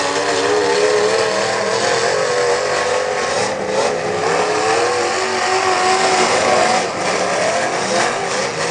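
A demolition derby car at a Morris, New York event revs hard and holds the throttle, its engine droning loud and steady with wavering pitch for several seconds.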